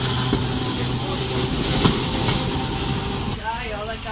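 A tram rolls along a busy Milan street with a steady, moderately loud rumble that fills the whole stretch, mixed with general outdoor city noise.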